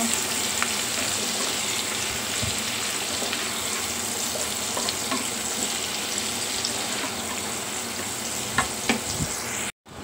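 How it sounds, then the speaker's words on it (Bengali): Beef sizzles steadily in a hot pan for kacchi biryani, a continuous close frying hiss with a few louder pops near the end before a brief cutoff; no one talks. "তো এইটা মাংস কালার করে নেব।"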